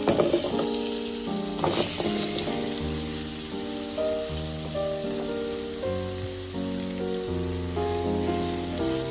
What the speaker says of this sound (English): you're gonna throw in your apples